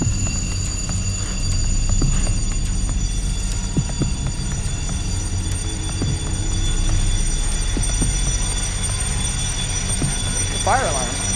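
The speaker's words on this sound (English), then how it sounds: "The fire alarm went off while we were doing our spirit box session" A fire alarm in a community center sounds as a steady, high electronic tone throughout, with people talking and moving nearby under it.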